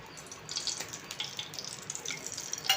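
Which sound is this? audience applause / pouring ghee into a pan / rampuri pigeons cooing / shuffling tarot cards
pouring ghee into a pan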